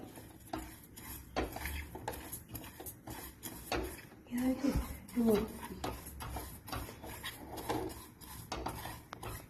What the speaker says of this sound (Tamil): அரிசி வறுக்க போகிறேன்.